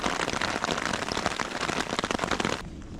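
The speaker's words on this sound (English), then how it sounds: "it's like a monsoon rain right now" Heavy, sudden monsoon-like rain drums densely and loudly on a camping tent during a Colorado elk archery trip, a constant close patter of countless drops that eases slightly near the end.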